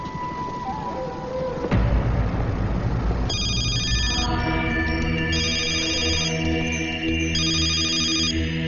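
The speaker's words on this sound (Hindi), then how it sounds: "साहब, आपका फोन है।" A telephone rings with a repeated electronic trill over a low steady hum, the rings recurring in regular bursts after a sudden thump.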